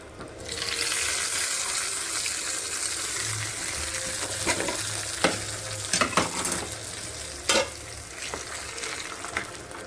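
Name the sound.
tempering sizzling in hot oil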